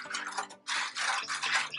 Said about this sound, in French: On commence par verser la sauce au fond.